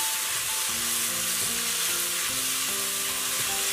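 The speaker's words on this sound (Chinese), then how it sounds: "然后用大火翻炒均匀" Celery stir-fried in a wok over high heat with soy sauce, oyster sauce and salt, a loud continuous sizzle with scraping stirring strokes, no voices.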